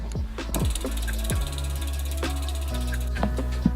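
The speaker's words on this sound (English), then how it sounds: "we're going to spin the front and rear wheel, make sure we are not getting any rotor rub" A bicycle's front and rear wheels spun on a stand to check for disc brake rotor rub, giving a steady mechanical whir with repeated ratcheting freehub clicks and brief knocks, close up and with no talking.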